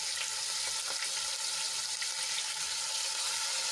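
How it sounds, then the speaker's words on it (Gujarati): Steady, close sizzling of ginger, garlic and chili paste frying in hot oil, a continuous crackling hiss with no talking. "આદુ લસણ અને મરચાંની પેસ્ટને આપણે સાંતળી લઈશું"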